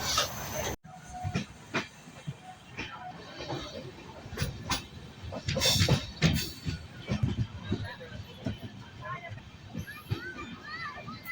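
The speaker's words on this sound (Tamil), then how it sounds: "ஃபைனலாக நம்ம train Hosur railway station reach ஆகிடுச்சு" An Ernakulam–KSR Bengaluru Intercity superfast express train with LHB coaches rumbling and hissing as it pulls into Hosur railway station, wheels clacking, with people talking nearby.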